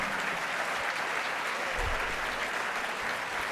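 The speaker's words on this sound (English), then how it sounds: "let's have a round of applause for our saxophonists, Clay, Danny, Tivon, Ben, Andrew, Braxton" Audience applause for saxophonists at a jazz saxophone competition, a steady dense wash of clapping filling the whole stretch at moderate level with no voices over it.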